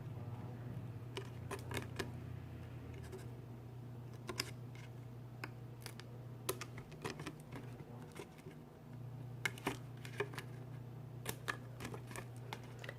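Scissors cut a V into a laminated planner insert, giving sharp, crisp snips in scattered clusters over a low steady background hum, close and fairly quiet.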